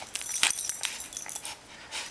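Dog tugging at a sock, giving short whimpers and soft breathy growls in a few quick bursts, close to the microphone.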